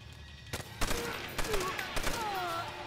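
Sharp bursts of gunfire crack through a Call of Duty: World at War courtyard battle, several loud shots and short volleys with voices chattering in between.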